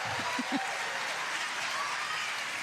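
Crowd applause fills a pickleball stadium during a singles match at the Florida Open Championship, a steady broad wash of clapping and cheering that holds at an even level throughout.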